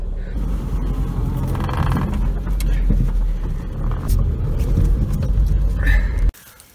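A car engine rumbles low and steady from inside a moving vehicle on the drive out to a mushroom spot, road noise continuous for several seconds before cutting off abruptly.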